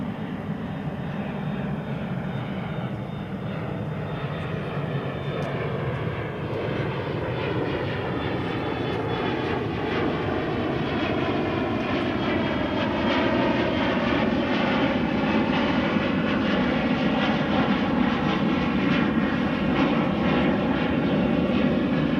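Jet engines of an Envoy airliner roar steadily at DFW Airport, a loud sustained drone with slowly shifting tones that swells slightly over time, with no speech.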